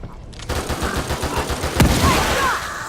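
Weapons fire in The Evil Within 2, with a rapid burst of close, punchy shots followed by a single louder crack and a few trailing reports.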